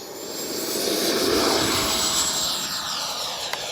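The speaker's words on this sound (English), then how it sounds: "This has one of the best sounding EDFs in the industry" An FMS 80mm F-86 radio-controlled jet with an electric ducted fan flies past, its loud, steady high-pitched whine and rushing roar holding for several seconds.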